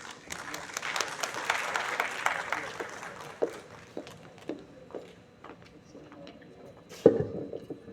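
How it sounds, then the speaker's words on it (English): An audience at an international conference on religious tourism applauds, a fairly loud burst of clapping in a hall that thins into scattered claps and a few louder single hits. "Please join me in welcoming Sir to share his experiences with a huge round of applause."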